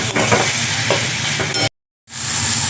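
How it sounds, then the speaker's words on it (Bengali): Spice paste with Kashmiri chili powder stirred and frying in a pan for a Bengali elephant foot yam and rupchand fish curry, a steady close sizzle with scraping spoon strokes, cut by a brief silent gap before the sizzling resumes. "এবার দিয়ে দেবো একটু কাশ্মীরি লঙ্কা গুঁড়ো। মশলাগুলো সব দেওয়া হয়ে গেছে। মশলাটাকে এবারে ভালো করে আমি কষিয়ে নেব।"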